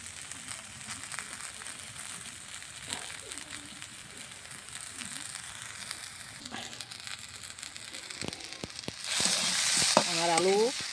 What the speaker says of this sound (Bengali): আস্তে আস্তে লাড়াচাড়া করে সুন্দরভাবে ভেজে নেব